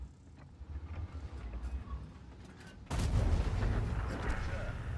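An artillery shot in the World of Tanks video game, heard as one sudden heavy boom partway through, followed by a loud, sustained rumble over quieter in-game background noise.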